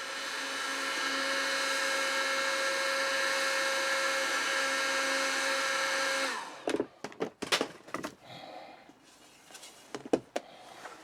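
A heat gun blows hot air over a plastic drain pipe being shaped into a sword scabbard in cold weather. A steady, loud whirring hum runs for about six seconds, then cuts off into a few sharp knocks and handling clunks.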